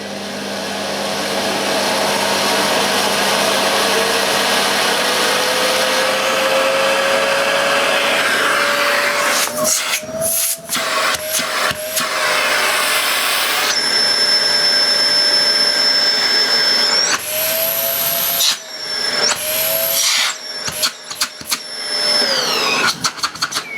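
A Hoover Sensory Floormaster TS2265 vacuum cleaner runs loud and close, its motor whine climbing as suction is turned up, broken by a few abrupt cuts and restarts, with no talking.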